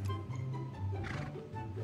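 A horse in the Alicia Online video game gives a brief neigh, a short whinny with a low snorting undertone, moderately close and quiet.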